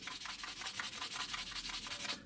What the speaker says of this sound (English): basically we're just going to start sanding like that